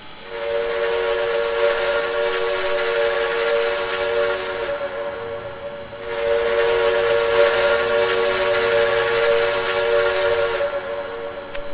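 A steam locomotive whistle on an N&W 4-8-0 in the Trainz 2019 game sounds in two long, steady chime blasts separated by a short gap, loud and clear over a low rumble, with no talking.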